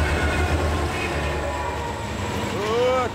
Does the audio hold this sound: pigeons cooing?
no